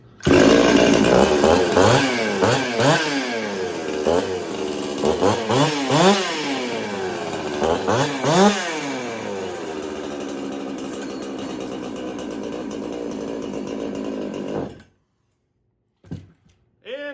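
A ported Jonsered 670 chainsaw runs close by, revving in rising and falling sweeps while cutting, then settles into a steady high idle before shutting off abruptly near the end.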